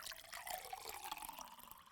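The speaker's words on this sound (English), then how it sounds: "Cold water in the first glass." Cold water poured into a glass, a faint, steady trickling and splashing of liquid for about two seconds with no voices.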